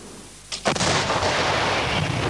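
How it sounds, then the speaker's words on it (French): Heavy artillery cannon fire in Beirut in 1989, a sudden loud boom about halfway in followed by a long rolling, echoing rumble that fills the rest of the moment. "le bruit du canon n'a pas cessé"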